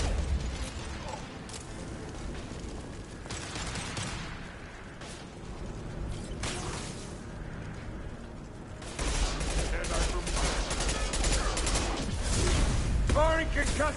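Video game Mass Effect 2 combat with bursts of gunfire and mechanical weapon sounds over a dense, busy background, growing louder and heavier in the second half.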